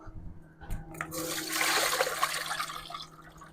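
Tap water runs over fish being rinsed in a colander in a kitchen, a steady splashing stream that swells and then trickles off over a few seconds, fairly close and moderately quiet.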